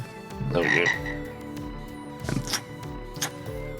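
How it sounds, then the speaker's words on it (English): A large frog croaks in a tabletop fantasy game scene, a deep throaty croak followed by a few shorter guttural calls and soft clicks, loud and close with no talk. "That was a fucking big ass frog."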